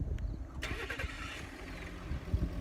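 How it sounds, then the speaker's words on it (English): A 2018 Ford F150 Powerstroke diesel engine starts remotely, a loud broadband burst of cranking and catching just over half a second in, settling into a steady rumbling idle that continues close by. "Yeah, that's the diesel engine going."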